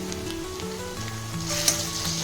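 Onions sizzle and fry in a pan while ginger-garlic paste is added, a steady crackling hiss with a brief sharp spike partway through.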